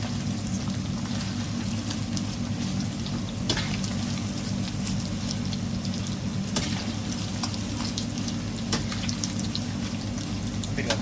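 Chicken skin deep-frying in hot oil sizzles and crackles steadily and close up, with occasional louder pops and a low hum beneath, no voices heard.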